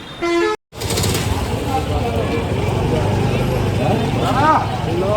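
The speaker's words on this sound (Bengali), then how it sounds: "তো এই হচ্ছে বহরমপুর বাস স্ট্যান্ড" Busy traffic at Baharampur bus stand, with repeated honking from buses and cars, engines rumbling and a dense crowd of voices filling the open street.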